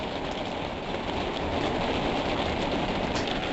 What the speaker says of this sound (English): Oh, there's the hail.